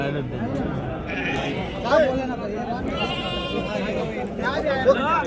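Mutton rams bleat repeatedly at a busy livestock market, sounding several times over a constant chatter of people talking and bargaining nearby.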